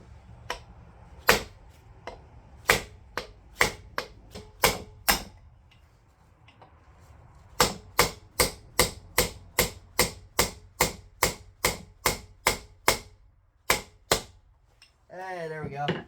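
Sharp, loud metallic strikes repeat in quick bursts, a hammer banging on metal during a wheel bearing replacement on a 1953 GMC, pausing briefly between volleys before a short spoken phrase at the end.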